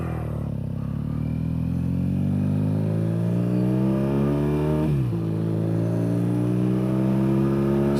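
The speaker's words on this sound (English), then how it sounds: "So, we're on the road. Motorcycle's running." A BMW R nineT motorcycle engine runs on the road, a close, steady drone that climbs in pitch as it accelerates, dips sharply at a gear change, then builds again under wind noise.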